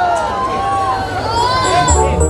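A large audience at a Madurai stage show of Mariamman devotional songs shouts a long, drawn-out "O" together, many voices rising and falling in pitch as one sustained crowd cry.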